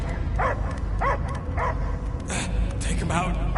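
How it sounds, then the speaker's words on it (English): Barking from a creature in the video game Guardians of the Galaxy, a series of harsh, strained yips and barks in a steady rhythm, close and loud over a low rumbling game background. "I hear only barking."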